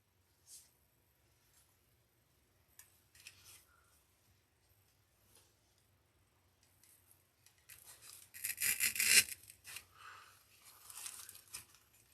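Scissors cutting a sunflower stem while arranging a tobacco basket with floral foam, soft scattered snips and rustles, then a louder cluster of crunching cuts close by, no voices.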